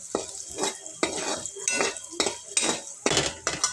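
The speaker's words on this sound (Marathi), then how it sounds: "कांद्यावरच परतून घ्यायचं आहे आणि लसूण आणि कांदा चांगला खमंग परतून घ्यायचा आहे" Onion and garlic sauté in a pan over a low flame, with a gentle sizzle broken by repeated close scraping and clinking stirs in an uneven rhythm and no talking.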